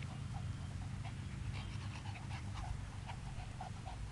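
Shih Tzu dogs pant rapidly and steadily close by, quick rhythmic breaths with a faint whimper now and then, no talking.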